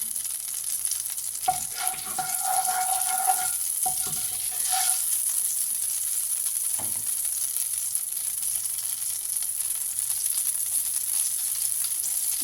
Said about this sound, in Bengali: আলু ভাজাটা তুলে নেওয়ার পর একটু জিরে ফোড়ন দিয়ে দিলাম এর মধ্যে।